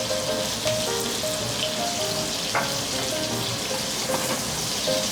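Garlic sizzles in olive oil and butter in a pan, a steady dense crackle that runs throughout, close and continuous, with faint tonal background sounds and no speech.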